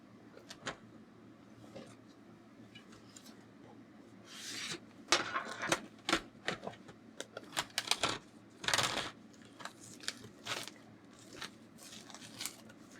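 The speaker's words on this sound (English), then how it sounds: "I've delicately ripped them open like a bag of chips" Crinkly plastic packaging of drawing pencils is torn and rustled close by, with bursts of crackling and ripping between quieter pauses.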